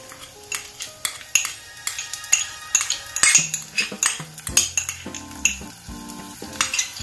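Green chillies and ginger garlic paste sauté in hot oil in a pan, with a crackling sizzle under repeated clinks and scrapes of a metal spoon, close and busy, with no speech.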